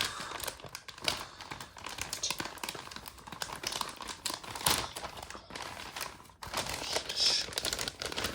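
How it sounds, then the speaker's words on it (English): Tape peeled off a cardboard box holding a CollectA Deluxe Iguanodon toy dinosaur: close crinkly tearing and scratchy rustling in uneven bursts, quiet and continuous, with no voices. "So there's just some tape there. So just peel that off."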